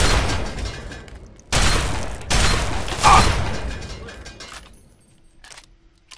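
Bursts of turret gunfire in the video game Fallout 3 arrive as loud, dense rattling volleys in a few separate blasts, then taper off into quieter mechanical noise.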